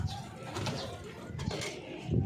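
Pigeons cooing in soft, low repeated calls, close by, with faint rustling and background noise, in a loft.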